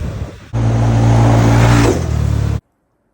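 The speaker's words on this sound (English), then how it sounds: "It is a 1000cc triple cylinder engine making about 115 horsepower" A Yamaha YXZ 1000RR side-by-side with a 1000cc three-cylinder engine revs hard and close, holding a loud, steady roar for about two seconds before cutting off abruptly, after a short stretch of quieter idling.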